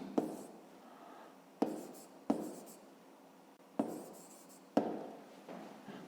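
Pen or pencil writing on paper while working a fifth-grade subtraction problem, a steady scratchy scribble broken by several sharp taps as strokes start, close and fairly quiet with no talking.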